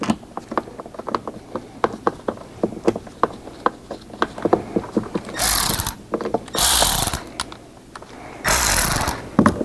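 Repeated ratchet clicks tighten a bolt on a Mercedes GL450 driver side door, short rhythmic bursts close up, followed by several louder sustained bursts of ratcheting near the end.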